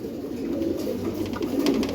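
A pair of Giribaz pigeons coo softly and continuously, close by and alone.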